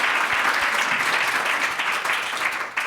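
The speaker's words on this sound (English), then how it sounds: "Round of applause for our leaders." A summit audience bursts into dense, sustained applause for education leaders, a steady roar of many hands clapping close and loud for the whole stretch, with no speech over it.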